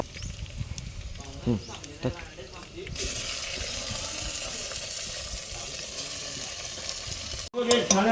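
Loud, steady sizzling of country chicken frying in a hot pan, close up, preceded by stirring scrapes and ending with a brief clatter.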